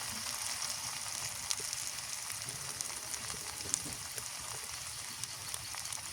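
Chili, garlic and onion paste frying in a pan, a steady dense sizzle with scattered crackles and pops, close and continuous with no voices.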